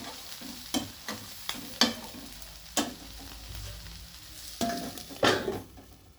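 Rice with egg fries in a pan with a soft continuous sizzle, broken by a series of sharp scraping stirs of a spatula against the metal at irregular intervals.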